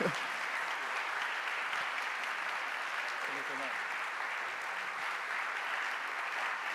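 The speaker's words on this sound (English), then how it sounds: "please applaud." Steady applause from an audience at an ISMIR 2025 music information retrieval society session, a dense continuous wash of clapping that holds level for the whole stretch, with a voice faintly audible beneath it.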